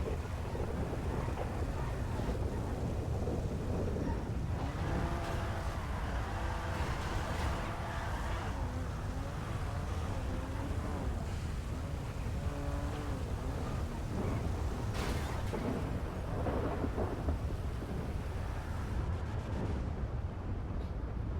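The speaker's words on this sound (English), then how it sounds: "why does it always storm right before I go to bed?" A thunderstorm with heavy, steady rain and rolling thunder builds to loud, continuous rumbling that fills the whole stretch, with no voices.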